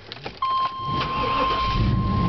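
Hydrogen-converted car engine starting: a steady tone sounds, then a short crank catches and the engine settles into a rising, steady idle close by.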